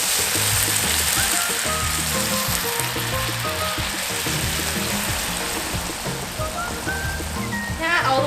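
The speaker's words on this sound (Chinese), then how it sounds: "我们就倒入一点水，让它熬煮个3分钟左右" Vegetables bubbling in water in a wok after being stir-fried, a dense, steady sizzle and gurgle running continuously up close, with a faint voice underneath.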